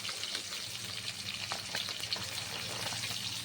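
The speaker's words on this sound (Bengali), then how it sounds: "দেখো আমি এইভাবে মাছটাকে তেলের সাথে ঘুরিয়ে ঘুরিয়ে ভেজে নিচ্ছি" Bhola fish frying in oil in a wok while being turned, a close, steady crackling sizzle with brief spitting pops and light scraping of the stirring.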